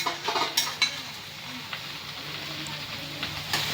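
Crushed spices dropped into hot oil, giving a soft ongoing sizzle with a few sharp clinks and taps from a utensil in a home kitchen, fairly quiet.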